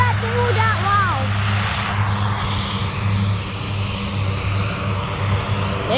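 A large military transport plane, likely a C-17, roars loudly as it takes off at Fort Bragg, a sustained rumbling drone with a steady low hum and a whistling pitch sweep early on; no voices are heard.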